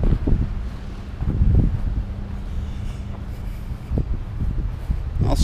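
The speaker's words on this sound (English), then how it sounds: "Apologize for any wind noise." Low, gusty wind buffeting a microphone outdoors beside a road, a steady rumble with louder bursts near the start, middle and end, and no voices.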